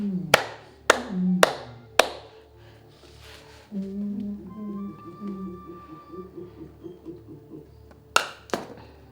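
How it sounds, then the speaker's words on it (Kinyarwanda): Four sharp hand claps ring out in quick succession at the start of a Rwandan comedy scene. A stretch of softer vocal and tonal sound follows, then two more quick claps close it out. "koma amashyi kane"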